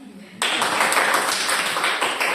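Applause from a class or teachers' gathering starts abruptly and carries on as a steady, fairly close wash of many hands clapping, with no talk over it.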